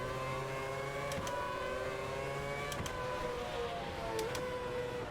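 Formula 1 race cars in the F1 2011 video game at the British round, a continuous high engine whine with shifting harmonics and a few sharp gear-change blips, steady and fairly loud with no talk.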